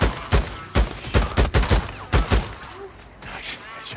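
Rapid bursts of gunfire ring out in the video game Days Gone, a string of sharp, loud shots in quick succession that stop abruptly, followed by a few quieter clatters.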